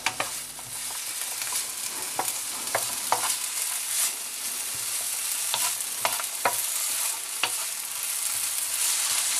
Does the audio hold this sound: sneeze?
no